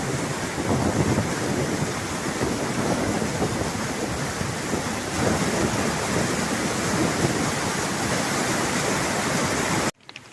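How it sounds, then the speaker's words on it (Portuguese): A strong thunderstorm in the Serra do Mar Atlantic forest, heavy rain roaring steadily as a dense, unbroken wash of noise for about ten seconds before cutting off abruptly. "forte tempestade já à vista"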